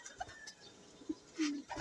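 Fancy pigeons in a loft give a few soft, low coos and brief calls, close by and fairly quiet, with a short gap between calls and faint background rustle.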